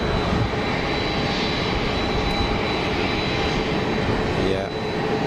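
A CRJ 900 regional jet flies overhead at Geneva Airport, its engines giving a steady, loud, broad roar throughout.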